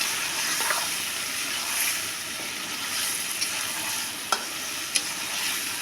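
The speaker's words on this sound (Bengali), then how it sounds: "এভাবে একটু কষিয়ে নেব।" Chicken and taro stir-fried together in a pan give a continuous bright sizzle that runs the whole time. A few faint scrapes come through, with two sharp clinks near the end, close up and with no voices.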